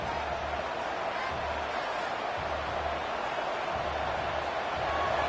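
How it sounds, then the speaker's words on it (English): Stadium crowd noise from a college football video game, a steady dense roar of many voices at moderate volume with no distinct cheers standing out. "Listen to the crowd energy here in the early going."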